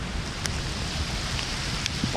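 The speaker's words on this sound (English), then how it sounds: "The rain is gonna hang around for a while" Steady rain falling outdoors after a thunderstorm, a continuous even hiss with a few brief drip-like taps standing out, no voices.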